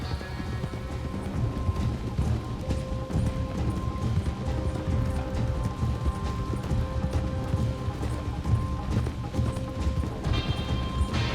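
Horses gallop in Red Dead Redemption 2, a loud, continuous rolling drum of hooves close by, with steady rhythm throughout and game background sounds beneath.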